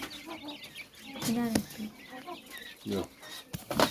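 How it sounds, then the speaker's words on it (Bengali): Young quail chicks chirp in a rapid, scattered series of thin calls up close, with the sound rising and falling over a few seconds. "কোয়েল পাখির বাচ্চাগুলো"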